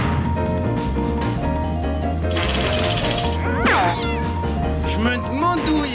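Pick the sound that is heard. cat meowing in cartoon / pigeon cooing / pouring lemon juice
cat meowing in cartoon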